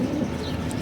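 A male racing pigeon of the R15 line coos softly in a low, murmuring tone, close by and continuous over a faint background hum, with no one speaking.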